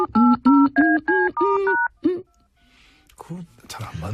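Telephone keypad dialing tones, a run of six steady beeps in a quick even rhythm, loud and close, followed by faint ringing and then a voice beginning to speak.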